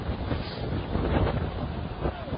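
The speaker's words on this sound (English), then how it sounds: "You might be able to hear the wind picking up a little bit now." Steady wind buffets the microphone with a broad rushing roar, continuous and fairly loud throughout.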